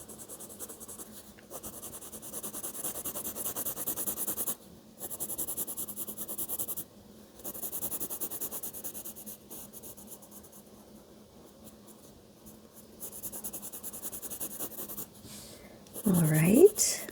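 A colored pencil scratches across paper in long, steady strokes with brief pauses where the pencil is lifted and turned. The scratching is close and continuous, and a voice speaks near the end.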